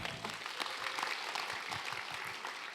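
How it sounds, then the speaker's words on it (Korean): Quiet applause from a book concert audience welcoming a former Daejeon mayor, a brief patter of scattered clapping heard somewhat distant and soft, with a short low murmur at the start. "여러분 힘찬 박수로 맞아주십시오"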